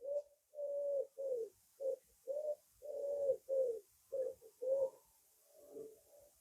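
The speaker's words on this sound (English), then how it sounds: "Either the birds are going absolutely crazy or something in that tree." Pigeons or doves coo repeatedly from a tree near a church archway, a run of about ten loud, rhythmic hooting phrases with short gaps, close by and clear.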